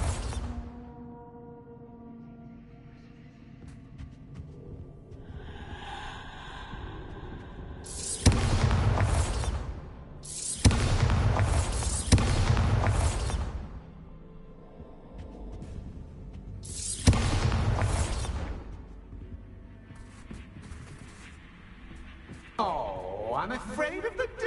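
Bombarda spell blasts in Hogwarts Legacy land as several loud, booming bursts, each a heavy wide rumble lasting about a second, with quieter game sounds and brief speech between them.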